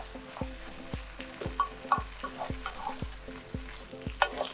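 Taco meat cooking in a pan gives a low continuous sizzle with regular scraping stir strokes, close by, at a moderate level, alone without speech.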